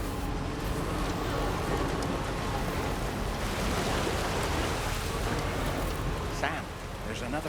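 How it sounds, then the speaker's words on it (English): Rain in the video game Death Stranding 2, a dense, steady hiss of falling rain filling the whole scene, with a voice speaking over it. "Well, there goes the rain."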